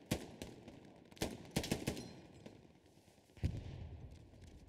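Gunfire in the Hell Let Loose video game on a World War II battlefield: scattered rifle and machine-gun shots, some in quick bursts, a few sharp and near, others more distant, over steady background ambience.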